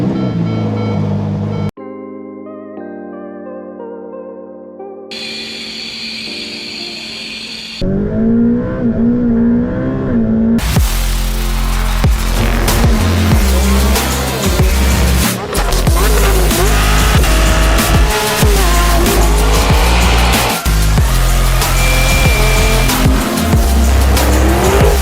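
Ferrari F8 supercar started up and revved, a loud close engine roar with rising and falling revs that continues steadily after an initial burst of other sound.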